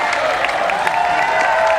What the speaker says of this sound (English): Yates trying to get the crowd pumped up behind him